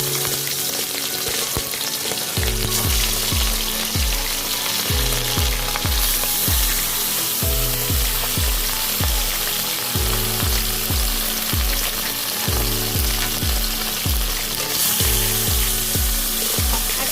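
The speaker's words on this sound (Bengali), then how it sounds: "তেল গরম হয়ে গেছে, এবার আমি মাছগুলো দিয়ে দিচ্ছি তেলের মধ্যে।" Bata fish sizzle loudly in hot oil in a wok, a dense, steady frying hiss running throughout with regular clattering knocks of a utensil against the pan.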